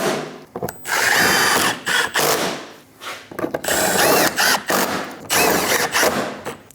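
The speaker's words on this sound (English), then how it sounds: "installing all of the bolts for the bumper" Bumper bolts are driven in on a Dodge Durango with a power tool, loud bursts of whirring and rattling separated by short pauses, close up and alone.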